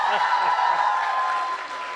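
Audience applause welcomes quiz host Mahendra onto a Dev Anand quiz show stage, a steady wash of clapping through the whole short stretch.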